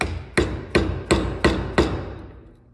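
A chisel being driven into wood to cut a mortise hole, struck five times in an even rhythm; each blow is a loud, close thud with a short ringing decay.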